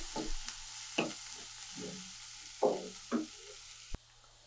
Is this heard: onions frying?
yes